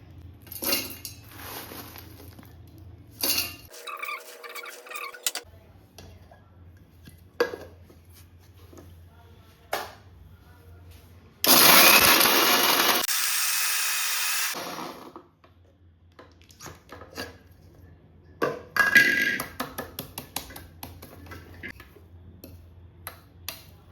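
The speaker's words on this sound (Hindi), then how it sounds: "तो थोड़ा थोड़ा करके मैं इसमें डालती हूँ और ग्राइंड करती हूँ" A mixer grinder grinds cooled dry fruits for ladoo in one loud roaring burst of a few seconds, surrounded by the clinks and taps of a jar, lid and utensils being handled.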